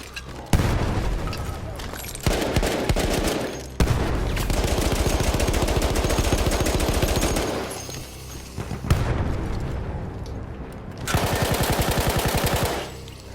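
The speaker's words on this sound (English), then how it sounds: "That explosion was one of the sweetest sights of the war for me." Battlefield 1 combat: loud, rapid machine-gun bursts and heavy booming explosions that come and go in long, violent stretches with brief lulls in between, dense and close throughout.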